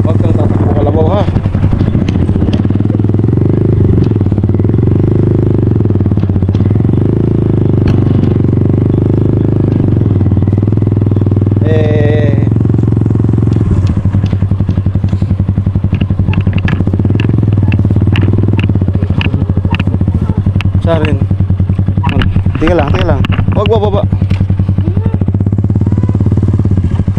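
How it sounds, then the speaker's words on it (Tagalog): A motorcycle engine idles steadily in the background outdoors in a rural setting, a low continuous drone with occasional rattles while people talk over it. "Tapos i-background natin tong motor."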